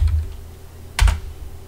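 A few computer keyboard keys are tapped close up, a short cluster of clicks followed by a pause and then a sharper pair of strokes.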